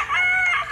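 A single rooster crows near the microphone at a fishpond, one short, loud, strained call with no other sounds around it.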